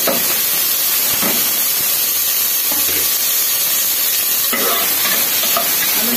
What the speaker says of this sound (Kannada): ಇದಕ್ಕೆ ಈಗ ಸ್ವಲ್ಪ ಫ್ರೈ ಆಗಿದೆ, ಅದಕ್ಕೆ ಸ್ವಲ್ಪ ಈರುಳ್ಳಿ ಮತ್ತು ಟೊಮೆಟೊನ ಕುಯ್ದಿಟ್ಕೊಂಡಿದ್ದೀನಲ್ಲ